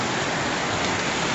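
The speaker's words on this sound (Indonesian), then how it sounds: "Hujan, guys. Hujan." Steady rain falls around a motorcycle rider on a pre-dawn road trip through Betong, Thailand, a dense, even hiss of drops with no break.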